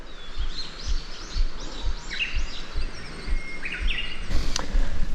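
On a road ride in rural Japan, a nightingale sings a run of bright chirps and trills a short way off, over a steady low rumble of background noise.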